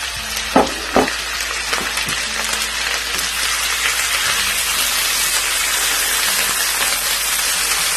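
Chicken pieces dropped into a pan of lightly sautéed onions, with a couple of soft thuds at the start and then a loud, steady sizzle of frying that carries through to the end.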